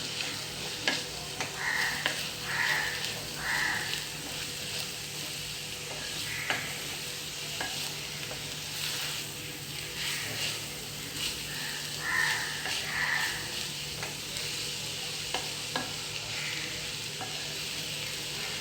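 Grated coconut is stirred into broad beans frying in a pan, a soft continuous sizzle with occasional light scrapes and taps of the spoon, faint and steady throughout.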